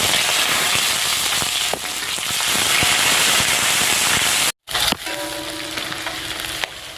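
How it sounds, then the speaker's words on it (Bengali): Sliced onions frying in oil with whole cumin and bay leaf, a bright crackling sizzle with popping spits and stirring knocks, briefly cut off and then resuming at a slightly lower level. "পেঁয়াজ ভাজা হয়ে গেছে"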